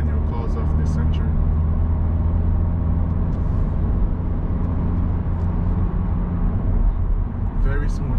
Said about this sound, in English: Very smooth shifting for a performance car.